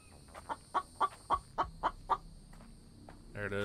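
A chicken in a survival video game clucks seven times in a steady rhythm, close and distinct over quiet background, with a brief louder game noise at the very end.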